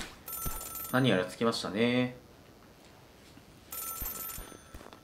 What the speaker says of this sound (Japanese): さあ、電話鳴ったね。